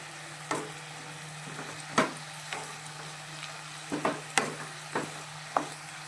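Prawn curry masala with ginger paste, chili and turmeric powder being stirred in a pan, a quiet sizzle broken by several distinct scraping and tapping strokes of a spoon spread unevenly, no talking.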